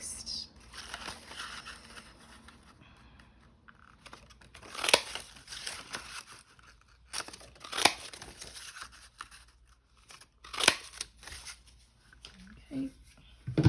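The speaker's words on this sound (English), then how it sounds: "just need to rip this whiteness off so that I can reach the text" White paper backing is peeled and ripped off during paper flower crafting, with quiet crinkling and several sharp tearing bursts, close up, while a person talks softly in between.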